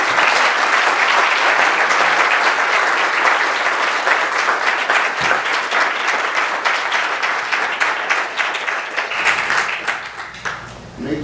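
A seated audience at a scientist's talk breaks into sustained applause, a dense wash of many hands clapping that holds steady and then thins toward the end.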